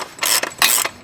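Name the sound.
ratchet tightening Yamaha MT-09 rear axle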